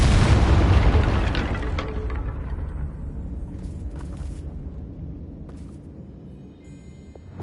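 In Hogwarts Legacy, a Confringo blasting spell goes off in one loud, close explosion, then a long rumbling tail of debris slowly fades away.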